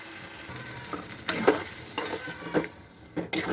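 Masala spices with chili, turmeric and salt fry and get stirred in a pan, a soft sizzle broken by several scraping stirs of a spoon, close and fairly quiet, with no talking.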